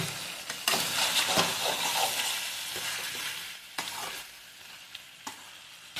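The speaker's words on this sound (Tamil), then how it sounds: "இப்போ நல்லா மிக்ஸ் பண்ணி நல்லா வேக விடுங்க" Chicken curry sizzles steadily in a hot pan while a utensil scrapes and stirs through it, with occasional sharper clanks against the metal.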